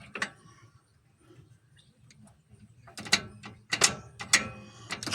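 Gears of an old tractor gearbox clunk and ratchet as the lever is shifted, a few scattered clicks giving way to a run of loud, close metallic knocks near the end.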